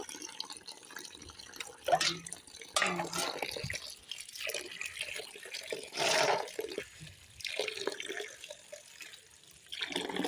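Bottle gourd stems are washed in water, with splashing, sloshing and dripping in irregular bursts, fairly faint and close.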